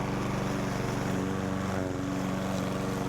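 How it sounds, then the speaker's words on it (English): A cheap Chinese RC lawn mower cutting tall grass on a steep hill, its engine droning steadily and loudly with a continuous buzzing hum throughout, close by, with no voices. "it's pulling that tall grass down underneath of the mower and letting the mower deck cut it"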